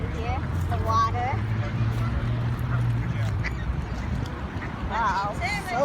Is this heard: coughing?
no